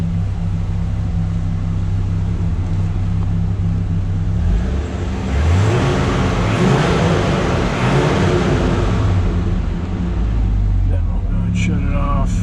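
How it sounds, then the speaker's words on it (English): A 2004 Dodge Ram SRT-10 pickup with a Viper V10 rumbles at a deep idle, then gets a couple of short rising revs before dropping back, close by, with some talk around it. "Rev it up just a little bit here so you can hear it."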